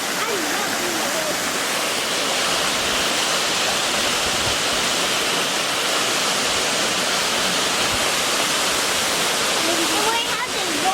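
Fukuyawa Falls, a waterfall in Okinawa, Japan, gives off a loud, steady roar of rushing water that runs without a break from start to end.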